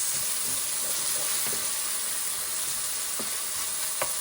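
Meatballs with minced garlic sautéing in a pan over lowered heat, giving a continuous close, loud sizzle and hiss with a few faint utensil taps, no talking.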